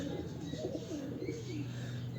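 Low, soft cooing from an aged breeder pigeon, close by and continuous over steady background hum, with no talking.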